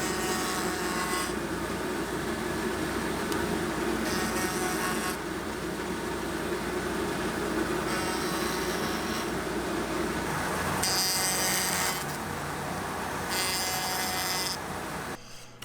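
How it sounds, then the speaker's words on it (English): A handheld router fitted with a trim bit cuts away wooden tabs on a puzzle box, a loud continuous rasping whine that swells and eases as the cut moves, running nearly nonstop. "Next I used a trim bit to clean off the rest of the tabs here."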